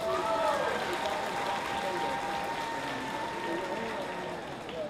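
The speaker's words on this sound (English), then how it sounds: "Let's give them a nice round of applause." An audience at a youth fair market steer show applauds the young exhibitors, a steady sustained wash of clapping in a large open venue with faint murmur and a brief tone early on.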